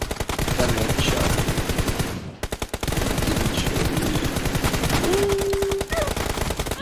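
Sustained automatic gunfire rattles through a 2v2 team deathmatch in a mobile shooter video game: loud, rapid bursts that continue almost without pause, breaking off briefly once before resuming.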